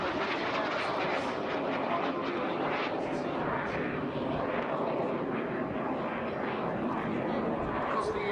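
A Jet Provost jet trainer flies at a Dunsfold airshow, its loud steady jet roar filling the air continuously with a broad rushing character and no pauses.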